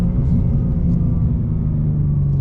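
A 2023 BMW M2 with a manual gearbox drones loudly from inside the cabin, a steady low engine rumble with a slight rise in pitch as the revs are matched on a downshift.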